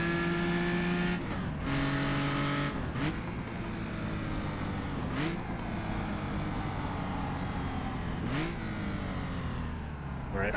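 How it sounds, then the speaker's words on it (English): A historic race car brakes hard for the hairpin at Rouen on cobblestones: the engine drones close and loud, then drops through several sharp downshifts with rising blips as it slows. "Hard braking for the hairpin."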